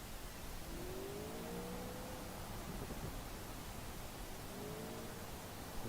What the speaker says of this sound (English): let's go jump this car up this big old gradient